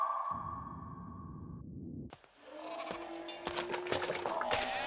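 Goats bleat in a film comedy scene, with a long sustained bleat at first, then a brief pause followed by overlapping animal calls and a busy, layered soundtrack.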